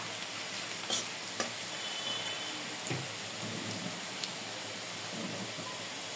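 Onions and spices fry in hot oil, a steady, even sizzle with faint stirring scrapes and a few soft knocks of the spoon.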